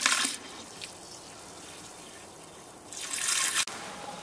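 Cold water for chilling a homebrew batch is poured into a brew kettle, a steady splashing stream that swells at the start and again near the end, then cuts off abruptly.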